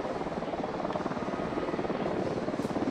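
A patrol helicopter in the military shooter video game Ghost Recon Wildlands flies overhead with a steady, loud rotor thrum and engine drone throughout, continuous and close, with no voices over it.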